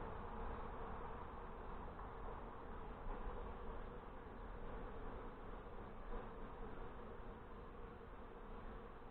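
Honey bees swarm over a hive frame during a nuc install in northern Michigan, a steady close drone of many wings humming evenly without pause or speech.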